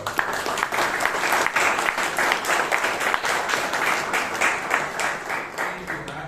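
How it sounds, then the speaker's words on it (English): An audience at a Toastmasters club meeting in Bangalore breaks into loud, sustained applause, with dense clapping that continues throughout. "Give him a big round of applause."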